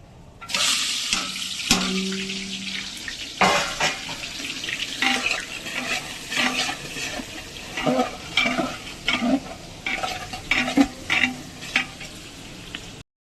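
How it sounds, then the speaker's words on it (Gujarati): Onions frying with cardamom in a village kitchen pan, a steady close sizzle broken by stirring scrapes and occasional clinks, with no one talking. "તો હવે ડુંગળી ફ્રાય થઈ ગઈ છે"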